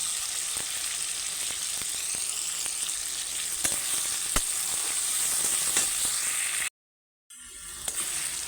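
Potatoes fry with salt and green chillies in a pan, giving a steady, close sizzling hiss with faint stirring taps; the sound cuts out briefly near the end, then resumes.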